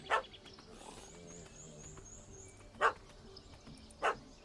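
A small dog in The Witcher 3 video game gives three short, sharp barks spaced a few seconds apart, faint against a quiet game soundscape.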